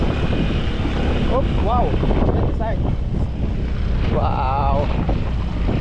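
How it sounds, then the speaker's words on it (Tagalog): Strong, steady wind roars and buffets the microphone on an open boat trip, with an engine-like rumble beneath and excited voices exclaiming over it. "Ito na, mahangin na."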